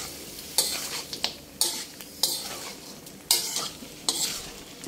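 Chicken curry ingredients with a little turmeric being stirred in a sizzling frying pan: a spatula scrapes in repeated irregular strokes over a constant soft frying hiss, close and clear, with no talking.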